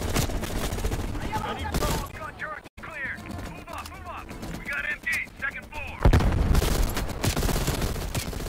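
Rapid machine gun fire in Call of Duty Black Ops Cold War, sustained and loud throughout, with in-game voices chattering beneath the shooting and a heavier burst of fire near the end.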